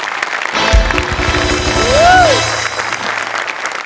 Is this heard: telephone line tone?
no